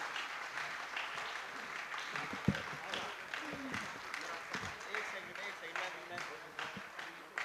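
Audience at a school poetry gathering (kavi sammelan) claps steadily throughout, a dense wash of applause with a few sharper louder claps, while a speaker talks over it.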